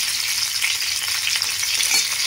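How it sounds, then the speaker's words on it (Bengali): Pointed gourd pieces frying in hot mustard oil, a close, continuous crackling sizzle that holds steady throughout with no talking. "তেল গরম হয়ে গেছে, পটলগুলো তেলের মধ্যে ভেজে নেব"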